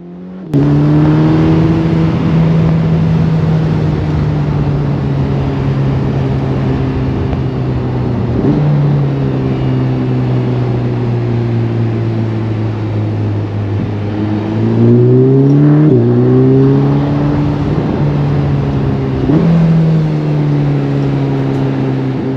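A 2022 Ferrari Portofino M engine drones loudly at steady speed, with several brief upshifts where the pitch drops and rises again, close and unbroken.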